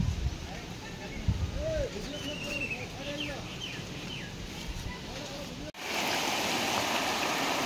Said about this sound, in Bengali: কবলি নদীর পানি ইলা জোর দিছে